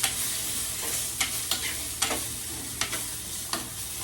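Fenugreek seeds crackle and sizzle in hot oil for a Tamil cluster bean kuzhambu, with a constant bright hiss and several sharp scrapes as a spoon stirs the pan up close.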